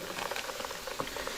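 Fish fillets, redeye bass, frying in a pot of hot oil, giving a steady close sizzle and bubbling crackle with no talk.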